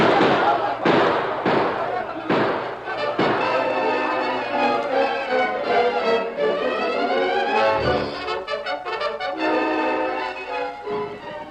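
Sound-effect gunfire rattles through an attack scene in a radio drama, with repeated sharp bangs and volleys mixed under loud shouting voices throughout.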